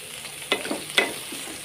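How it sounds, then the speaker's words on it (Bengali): Eggplant pieces frying in oil for pickle, a soft steady sizzle broken by two or three quick scrapes of a spoon stirring them in the pan. "আমি সুন্দর করে তেলটা প্রত্যেকটা গায়ে যেন মিশে, এই জন্য ভালো করে নেড়ে দিচ্ছি"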